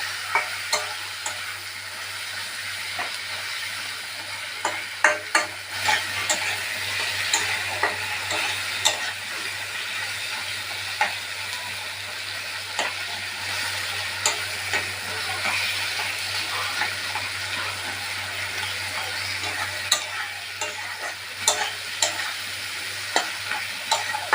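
Banana flower frying in a pan with turmeric and salt for a Bengali mochar ghonto, a steady close sizzle broken by frequent stirring clicks and scrapes throughout, with no talking.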